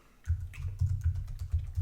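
A computer keyboard being typed on while writing code, a quick run of close, firm keystrokes in an uneven rhythm after a short quiet start, with no talking.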